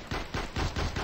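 Rapid burst of automatic gunfire in Battlefield Play4Free, about five evenly spaced loud shots in a quick rhythm with no talking.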